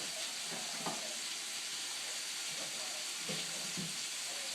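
Water hitting a hot pan with pork tenderloin, a steady close hissing sizzle with a few soft clicks of the pan.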